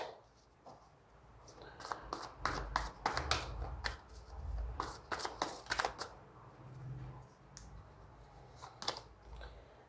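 Tarot cards being drawn and shuffled by hand, a series of soft close flicks and slaps of card stock in irregular clusters, with a faint voice speaking now and then.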